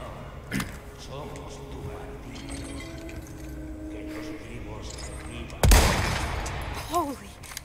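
Gunfire in the video game Resident Evil 4: a brief sharp crack early on, then a loud, booming shot that trails off, set against quiet game ambience.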